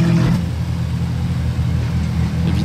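A Ferrari Purosangue pulls away on a street in Monaco, its engine a deep, steady rumble close by that swells at the start and then holds a low, continuous drone.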